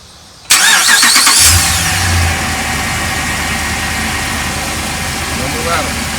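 A Dodge Ram pickup truck engine cranks and catches with a loud burst on first startup after sitting a few hours, then settles into a steady, even idle with no exhaust rattle that continues without interruption.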